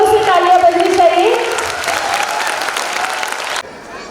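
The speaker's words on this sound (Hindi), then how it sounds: "बहुत जोरों से तालियां बजनी चाहिए." A crowd at a school gathering claps loudly and steadily. A voice speaks over the start of the applause, which then cuts off abruptly near the end.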